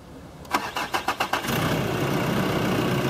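A 2006 Nissan Pathfinder's 2.5-litre turbodiesel cranks over in about eight quick starter pulses, then catches and settles into a steady, loud diesel idle.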